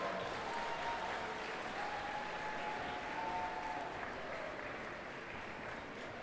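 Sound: audience applause at cosplay contest

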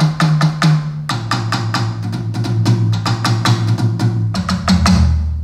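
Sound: Roland TD-17KV electronic drum head and rim strikes

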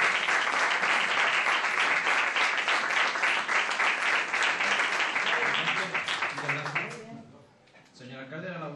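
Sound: audience applause

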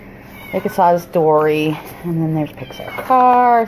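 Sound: cat meowing

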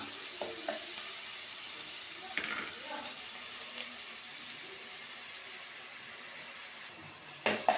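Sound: onions frying in a pan for chicken curry

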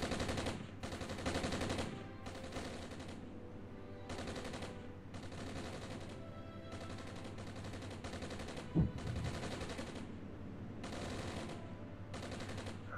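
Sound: gunfire on a pillbox in Armored Brigade video game

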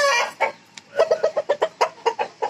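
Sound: Aseel rooster clucking

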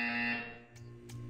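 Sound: buzzer sound in Portal 2 video game

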